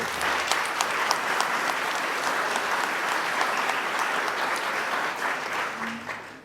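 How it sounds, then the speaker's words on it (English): A seated audience at an ethics-in-society event on end-of-life patient choice gives a steady, sustained round of applause, full and fairly close, holding evenly for about six seconds before tapering off. "can we all give them a round of applause?"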